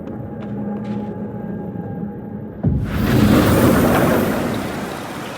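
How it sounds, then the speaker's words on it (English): A psychic storm in the video game Life is Strange Double Exposure starts after a quiet, hum-filled opening and surges into a loud, steady wash of rain-like noise with a low rumbling undertone. "Psychic storm."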